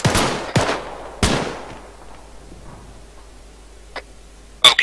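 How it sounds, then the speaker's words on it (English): Several sharp, loud single rifle shots fired at targets on a training range in Arma 3, three in quick succession with short echoing tails, then a fainter pop and two more close cracks at the end. "fire one round into the center mass of the target"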